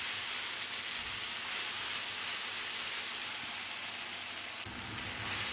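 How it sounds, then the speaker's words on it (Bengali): A constant broadband hiss of chili, ginger and tomato paste frying in a pan over low gas runs throughout. It stays fairly loud and even, with a faint low clatter near the end and no voices. "এর মধ্যে দিয়ে দেবো আমি লঙ্কা, আদা আর টমেটো পেস্ট। ভালো করে ওটা কষিয়ে নেব।"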